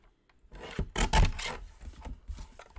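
Paper being cut for a black and white Christmas album, a short close burst of rasping, rubbing cuts lasting about a second, then a few softer scraping strokes, no talking.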